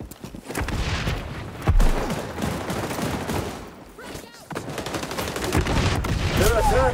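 Gunfire crackles in bursts through a round of the shooter game XDefiant, with a heavier thump near the start that fits a frag grenade going off, over busy in-game noise and faint voices.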